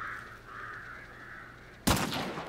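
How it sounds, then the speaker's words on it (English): A flock of startled crows in the game Hunt: Showdown caws in a drawn-out, wavering call, then erupts into a loud, sudden flurry of harsh cries and flapping near the end. "Setting off birds on my end."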